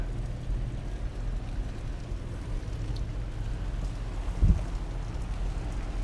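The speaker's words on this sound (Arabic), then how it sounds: "جميل، مطر غزير." Heavy rain falls on a flooded street at night in Al-Khobar during a thunderstorm, a steady hiss of downpour with one brief low thump midway, moderately loud and without speech.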